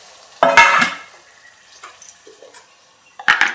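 Water hits sautéed bitter gourd in a pan, producing two short, loud splashing sizzles at the start and end, with quieter pan sounds between.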